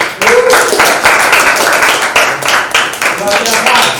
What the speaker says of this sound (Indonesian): Oke, kita beri aplaus kepada kelompok 1.